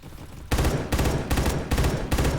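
A FAMAS rifle firing in burst mode in a video game, heard as several loud, close bursts of rapid shots separated by short gaps, with no talk over them.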